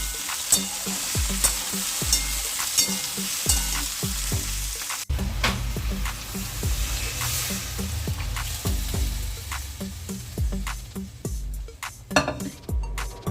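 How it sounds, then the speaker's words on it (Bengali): Vegetables for sambar dal frying and being stirred in a pan, a steady close sizzle broken by repeated scrapes and clinks of a spatula against the metal. "এখানে সাম্বার ডালের সবজিটা বসিয়ে দিয়েছি ভাজা এটা একটু ভাজা ভাজা হয়ে আসলে ডালটা দিয়ে দেবো"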